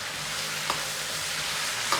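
Sauce sizzles steadily in a hot wok as a stir-fry of green beans, potatoes and peppers is stirred, with two faint clinks of a ladle against the pan.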